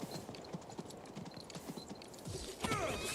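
Horse hoofbeats in the fantasy game King's Bounty II, a quick run of clip-clop steps over soft background ambience, ending in a brief brighter swell.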